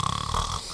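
A person imitating loud snoring with a short, rough, rattling rasp of voice, close and brief.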